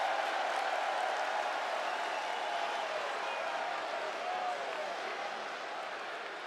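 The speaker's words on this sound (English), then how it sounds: "Listen to the crowd cheer for Mr." A wrestling arena crowd cheers as a competitor heads to the ring, a dense, steady roar of many voices that holds loud and unbroken throughout.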